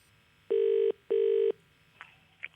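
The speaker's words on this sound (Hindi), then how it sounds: "फोन लगाया जाए इन्हें।" A telephone call placed to a quiz-show jackpot winner on Kaun Banega Crorepati gives two clean, evenly spaced ringing tones, followed by faint clicks on the line.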